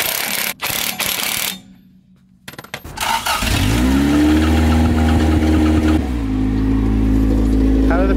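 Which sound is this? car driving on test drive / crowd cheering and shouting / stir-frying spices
car driving on test drive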